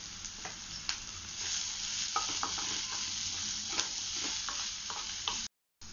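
Fried onions tossed with pepper powder, salt and a little sugar for gobi manchurian are stirred in a pan: a soft continuous sizzle broken by repeated light scrapes and clicks of the spoon, close and fairly quiet.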